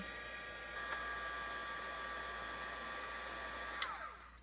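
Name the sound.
heat gun blowing hot air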